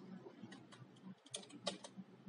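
Keys on a computer keyboard are typed in a quick, irregular run of soft clicks. The sound is close but quiet, with no talking.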